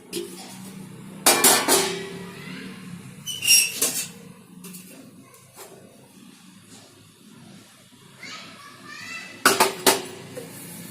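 Metal plates clink and clatter in a home kitchen while each is greased with oil for rava kurdai, three sharp bursts of clanking near the mic with quiet handling between.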